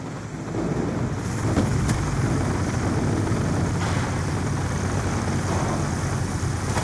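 Care package delivery aircraft flying in during a first-person shooter match on an express map, a steady rotor-like engine drone that fades in and holds loud and continuous throughout.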